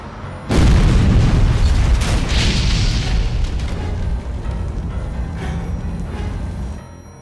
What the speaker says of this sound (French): Une explosion d'origine inconnue pulvérise une partie de la façade et ébranle fortement les structures du bâtiment.